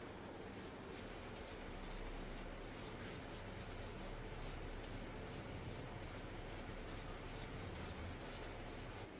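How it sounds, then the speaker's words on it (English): A brush works wood stain into a timber desk with and against the grain, a steady soft rubbing and scratching that continues alone at low level throughout. "When I'm staining timber, I like to paint with and against the grain to make sure that it gets absorbed into all those grain textures."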